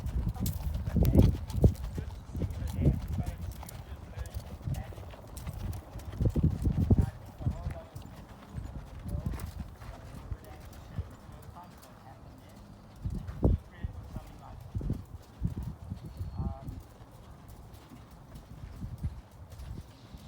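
A horse cantering in a riding lesson, its hooves clip-clopping in an uneven rhythm of loud close thuds over about twenty seconds, with people talking throughout.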